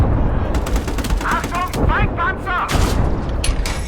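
Dense tank gunfire and artillery in a World War II video game battle, rapid bursts and booms over rumbling noise, loud and constant, with game voices calling out in between.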